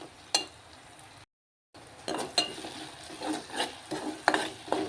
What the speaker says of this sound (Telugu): టమాటా కూడా పచ్చివాసన పోయేంత వరకు ఫ్రై చేసుకుందాం